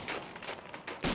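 Gunfire from the video game Medal of Honor: Allied Assault in a snowy daytime park map comes as several quick, faint bursts of noise in a row, followed by a sharper, louder shot at the end.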